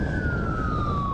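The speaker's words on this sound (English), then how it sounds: "With the sirens and the lights, we're asking for permission to pass because we have a job to do." Emergency vehicle siren wailing on a road, a loud steady tone slowly gliding down in pitch for the whole moment, with traffic rumble beneath and no talk.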